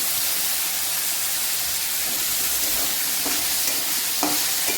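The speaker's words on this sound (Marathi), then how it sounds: "आता याच्यामध्ये आपण हे घेतलेले भोपळ्याचे काप टाकून घ्यायचे. त्याला पण असं छान परतून घ्यायचं त्याच्यात." Red pumpkin slices sautéing with turmeric in a pan give a steady, close sizzle, with a few scraping stirs of a spatula near the end and no voices.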